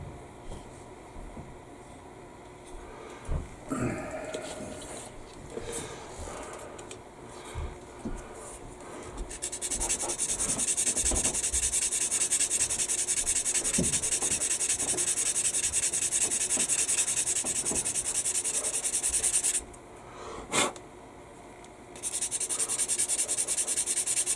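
Sanding a plastic fuselage part of an Airfix 1/72 B-17G model kit, a steady dry rubbing scrape that starts light and intermittent, then becomes continuous and louder, briefly pausing near the end before resuming.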